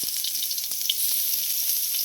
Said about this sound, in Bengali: তারপর কড়াইতে হালকা করে তেল দিয়ে পেঁয়াজ দিয়ে দিলাম,